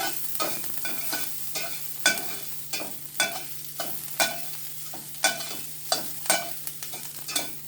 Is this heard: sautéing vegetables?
yes